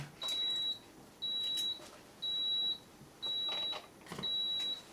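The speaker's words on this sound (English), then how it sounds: "Don't mind the beeping, that's my iron, it's switching itself off" A clothes iron beeping as its auto shut-off triggers, five evenly spaced high electronic tones about a second apart, each lasting around half a second, clear against a quiet room.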